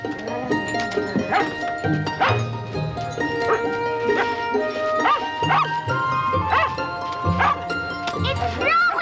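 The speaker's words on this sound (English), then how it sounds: "What's Jack barking about?" A dog named Jack barks repeatedly in short yips and bow-wows at close range, with a voice speaking between the barks.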